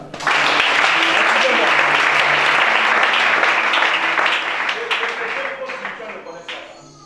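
A congregation at a deliverance church service in Gabon bursts into loud, sustained applause and acclaim, with voices mixed into the clapping. The sound holds steady, then gradually thins and fades toward the end.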